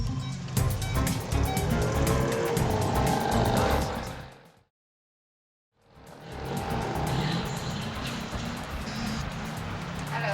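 A tuk-tuk motors through busy street traffic, its engine and tires loud and close for about four seconds, then a sudden gap of silence before the street noise and engine return.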